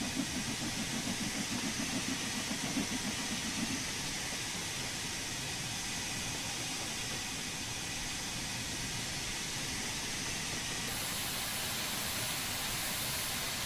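A continuous loud hiss of steam venting from a locomotive safety valve in the video game Train Sim World 3, with a low engine rumble underneath, steady and unbroken throughout.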